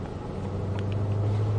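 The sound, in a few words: Shelby car engine accelerating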